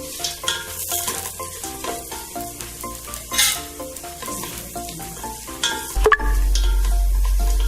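Whole garam masala spices dropped into hot oil for Hyderabadi bagara khana, giving a continuous close sizzle with stirring scrapes and clinks, ending in a louder burst of frying.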